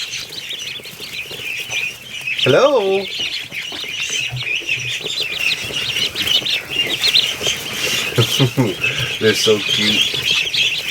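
Ducklings in a brooder peep in a constant high, busy chorus close by, with soft rustling and scuffling among them while someone speaks a few words.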